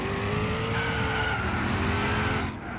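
Race cars in a racing video game drift and skid, engines droning steadily with a squealing tire tone rising and falling, loud and continuous before briefly dipping near the end.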